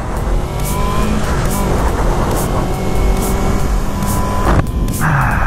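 A Yamaha R3 motorcycle on the road, its engine humming and revving steadily close to the rider under rushing wind, with a brief shift in tone near the end.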